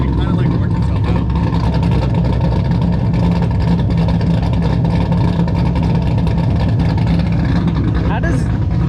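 A 2018 Camaro ZL1 with Kooks long tube headers and no mufflers rumbles loud and close, a rough unmuffled exhaust holding steady throughout with slight throttle swells, while people talk over it.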